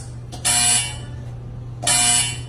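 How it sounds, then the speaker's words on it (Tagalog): Two loud, harsh electronic buzzes, each lasting about half a second, sounding one after another with a short pause between. "test your buzzers"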